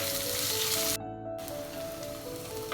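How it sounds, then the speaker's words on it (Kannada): Chopped onion fries in a pan for Kundapura-style crab sukka, giving a dense, even sizzle that cuts out briefly before resuming, with faint steady tones in the background. "ಆನಿಯನ್ ಕೂಡ ಚೆನ್ನಾಗಿ ಫ್ರೈ ಆಗಿದೆ ಬ್ರೌನಿಶ್ ಆಗಿ ಬಂದಿದೆ"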